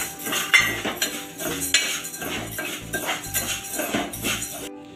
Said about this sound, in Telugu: దీంట్లో కొన్ని బియ్యం వేసుకొని వేపుకోవాలి